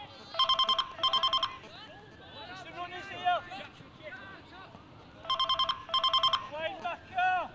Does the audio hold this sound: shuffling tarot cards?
no